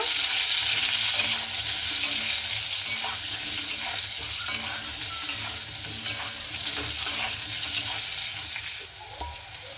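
Pointed gourd frying in oil with salt and turmeric, a continuous close sizzle broken by repeated scraping and stirring strokes in the pan.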